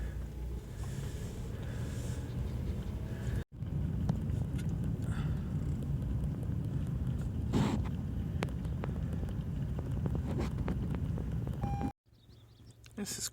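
Car driving slowly through Allensworth State Historical Park, a steady low rumble of road and wind noise with a brief cut near the start and a quieter stretch at the end, occasional faint voice.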